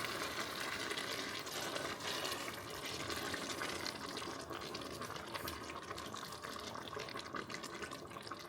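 Liquid pours steadily into a pot of chilli being cooked, a continuous close splashing and gurgling stream running for the whole stretch without pause or talk.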